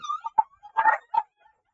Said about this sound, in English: Dogs are barking, which means the family's coming home.